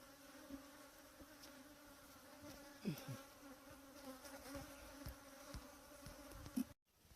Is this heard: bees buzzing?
yes